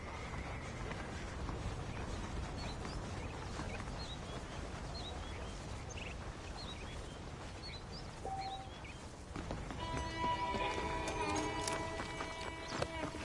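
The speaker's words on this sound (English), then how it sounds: "The horses are saddled up over here." Horse hooves clip-clop in a steady rhythm in Red Dead Redemption, soft and mid-distance over a quiet outdoor ambience, with a brighter tonal sound joining near the end.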